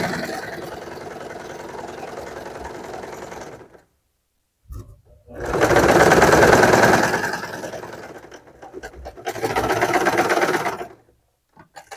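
A sewing machine stitches a seam on a draped skirt with a cutout panel, running in three loud bursts of rapid whirring separated by pauses.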